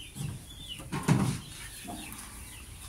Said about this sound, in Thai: ไก่ก็อยู่ได้สบายนะพี่น้องครับเห็นไหมไก่ผมจะอยู่ไปทั่วเลยครับ